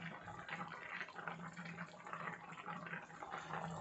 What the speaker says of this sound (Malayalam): ഇനിയിപ്പോൾ ഒരിച്ചിരി വെളിച്ചെണ്ണ ഒഴിക്കണം